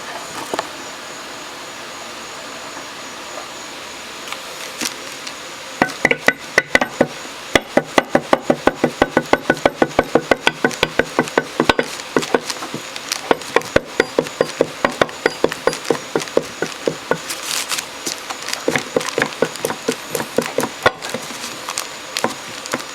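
Rapid bursts of sharp taps as a part is driven onto a Honda TRX300 Fourtrax ATV rear differential during a rebuild, with a rubber hammer; quiet handling first, then dense irregular knocking runs with brief pauses.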